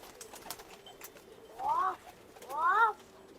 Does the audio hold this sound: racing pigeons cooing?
yes